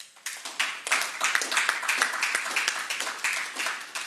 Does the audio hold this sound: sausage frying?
no